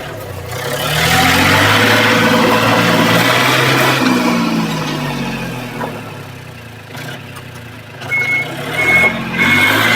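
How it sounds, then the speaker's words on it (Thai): A Yanmar F-180 farm tractor's diesel engine rumbles and idles steadily, and a few faint, evenly spaced reversing warning beeps sound over it near the end. "ตอนถอยจะมีเสียงสัญญาณเตือนนะครับ"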